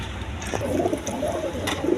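A pair of barren gallery pigeons for sale gives a soft throaty coo, heard close and alone for a couple of seconds.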